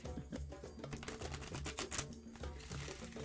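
Tarot cards being shuffled by hand, with quick, dense riffling and rustling bursts that sound up close and continuous under a low background hum.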